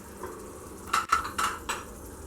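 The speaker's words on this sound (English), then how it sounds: "Give it a stir." A spoon scrapes and clinks against a pot while elephant's foot yam gravy is stirred, a few quick soft knocks over a faint simmering background.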